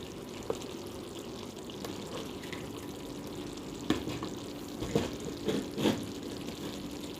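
Okra being sautéed in a pan with tomatoes, a low continuous sizzle with a few louder stirring scrapes and spatters toward the end.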